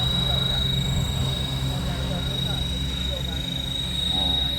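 A GPS-equipped Schweizer 470-size RC model helicopter, converted to a brushless tail motor, flies figure-eights in strong wind, giving a steady rotor and motor drone with a high whine, heard continuously with no talking.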